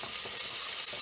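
Onion and ginger frying in a pan with spices hiss in a steady, close sizzle throughout, with faint stirring scrapes.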